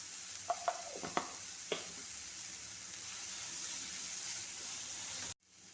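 Spices fry softly in a pan as turmeric powder is added for a theeyal curry, a steady faint sizzle with a few light spoon clinks at the start, before the sound cuts out abruptly.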